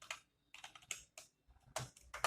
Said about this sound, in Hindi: अगर कोई न्यू पेशेंट है तो आपको यहाँ पर उसका नेम टाइप करना है